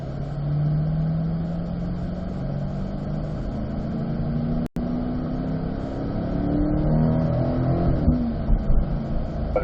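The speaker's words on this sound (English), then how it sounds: "Just working our way through the gears here." A C8 Corvette on a warm-up lap at Spring Mountain race circuit accelerates, engine pitch climbing through successive gears with brief drops at each shift, a loud steady drone from onboard; no talking.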